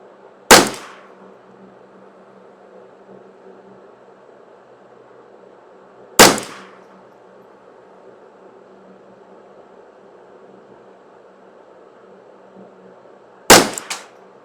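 Three sharp gunshots from a Ruger 10/22 rifle firing EPS bullets at well-spaced intervals, each a loud crack with a short decay, over a steady low background hum.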